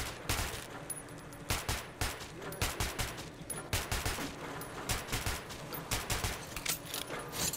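Repeated bursts of gunfire from a Metro 2033 Redux gun challenge crack out in rapid clusters with short gaps between them, close and sharp, sustained over several seconds.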